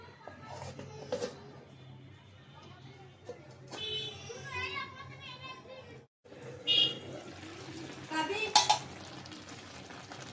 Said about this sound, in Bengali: এখন ঢাকনা দিয়ে ঢেকে রাখবো